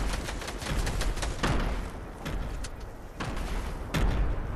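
Fortnite battle royale gunfire: a burst of sharp, distant-sounding shots and thuds crackles at irregular intervals over a steady low rumble, with louder reports near 1.4, 3.2 and 4 seconds and no talking.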